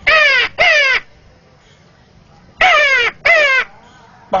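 A man imitates the call of a mountain crow: two harsh, loud caws close together, a pause of quiet, then two more caws and the start of a fifth, all voiced near and clear.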